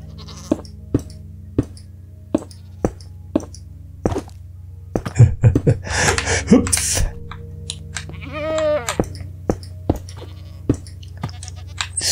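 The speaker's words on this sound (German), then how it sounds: "irgendwie muss ich jetzt die Ziegen hier reinbringen" Goats bleat in the Minecraft video game in a short, wavering cry around the middle of the clip, set among a steady series of sharp clicks and thuds and a burst of rustling game noise.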